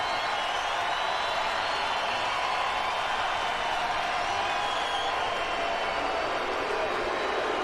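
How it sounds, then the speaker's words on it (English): A large ballpark crowd at a Cubs–Padres night game hums in a dense, steady roar that holds at the same level throughout, with no single clear voice standing out. "Crowd making some noise"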